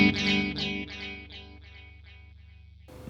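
Electric guitar run through a St.Rock React:IR II dual delay: a struck chord rings out and repeats in a series of fading echoes, about seven repeats dying away before a brief noisy burst at the end.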